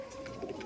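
Giribaj pigeons at a home loft coo in a steady low, throaty murmur, close and continuous through a brief moment with no talk.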